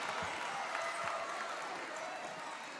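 Crowd noise at a high school basketball game, a busy murmur of spectators with scattered shouts and cheers between free throws, steady and fairly distant, with occasional ball bounces.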